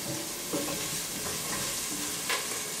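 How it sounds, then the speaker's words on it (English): Soft, steady sizzling and crackling of shrimp frying in hot oil over high heat, with faint stirring sounds and no talking. "Do you hear that sizzling?"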